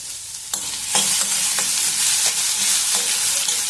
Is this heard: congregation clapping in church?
no